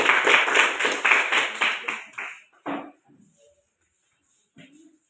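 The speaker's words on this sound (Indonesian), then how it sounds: "silakan kita berikan aplaus kepada kelompok 1" Classroom applause for a student group, a burst of fast hand claps lasting about two seconds that tapers off, followed by a single clap and a few faint scattered taps.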